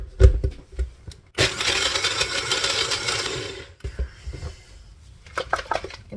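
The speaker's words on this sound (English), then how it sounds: "we have our NutriBullet plugged in" A NutriBullet blender mixes cake batter. Some clattering handling comes first, then a loud whirring motor burst of about two and a half seconds, followed by lighter rattles and knocks as the cup is moved.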